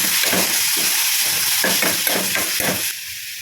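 Onion fries in a pan with curry leaves and green chilli, making a loud continuous hissing sizzle broken by stirring scrapes, then easing slightly at the end.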